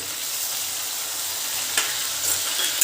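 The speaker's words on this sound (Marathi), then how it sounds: "थोडंसं फ्राय करून द्यायचं आपल्याला" Bay leaf, cardamom, coriander, cumin, peanuts, potato and eggplant fry in oil for a Bhogi mixed-vegetable bhaji, giving a steady, close sizzling hiss with a couple of faint clicks near the end.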